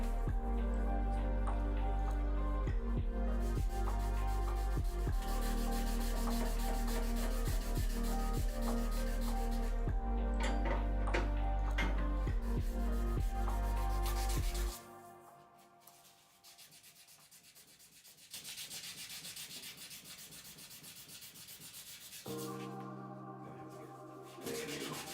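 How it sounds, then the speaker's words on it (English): Steady rubbing scrape of sandpaper worked back and forth by hand over lacquer on a guitar, continuous and close, easing off partway through to quieter, thinner strokes. "it's an exciting time of sanding."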